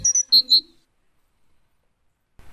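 A few short, high chirps from a small bird sound near the start, then near silence follows.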